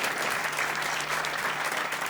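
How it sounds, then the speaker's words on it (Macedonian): An audience at a New Year's special television show clapping steadily for a guest, a dense and even burst of applause with no voices above it. "Аплауз за Наце Митев од Германија."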